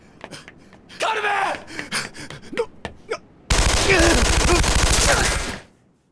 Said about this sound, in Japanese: あの銃声はおそらく奴の最初の発砲。